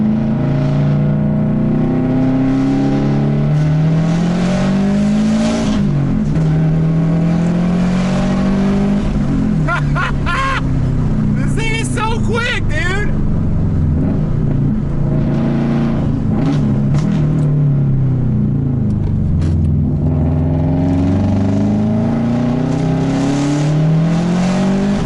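Tuned Subaru with power modifications pulling through the gears on a street, the engine note droning loud and continuous as it rises and falls through repeated shifts, heard from close range without talk.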